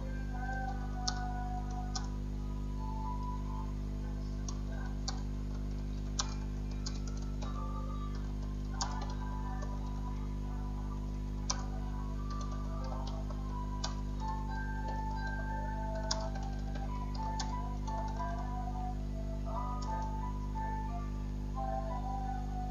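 Typing on a computer keyboard to fill in an address on an LMS form, with steady light key clicks and occasional sharper taps over a constant low hum.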